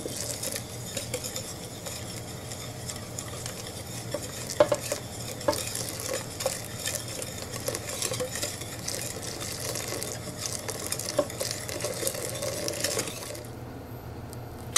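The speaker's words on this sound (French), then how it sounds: "vous allez venir verser le lait enfilé en continu en mélangeant bien, sans cesser de mélanger" Steady rapid whisking of custard mixture in a bowl, a continuous scraping swish with small metallic clinks, running without pause and no voices.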